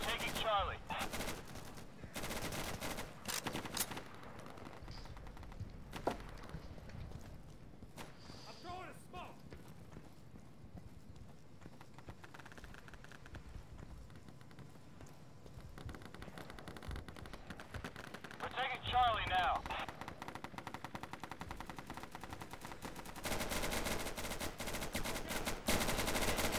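Sustained automatic gunfire and bursts of flying bullets rattle through a firefight in the video game Insurgency, near and far, with a player talking intermittently over the shooting.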